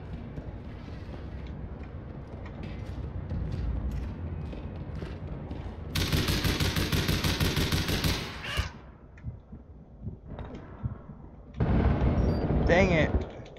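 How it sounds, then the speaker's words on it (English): Gunfire in the online shooter game APB Reloaded, with bursts of loud, sharp shots and blasts in clustered volleys, including a sniper's fire, close and dense, with occasional voices talking in between. "That guy sniped me, I'm pretty sure."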